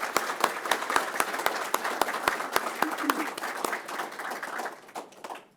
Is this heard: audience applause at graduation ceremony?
yes